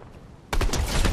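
Burst of rapid gunfire in the Fortnite video game erupts suddenly after a quiet moment, loud and sustained with dense overlapping shots close by.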